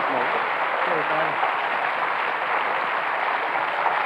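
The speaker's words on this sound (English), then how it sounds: "give him a big round of applause as he comes up for tonight's forfeit" A studio audience at a 1996 British TV game show applauds as a celebrity comes up, producing steady, dense clapping that holds at an even level from start to finish.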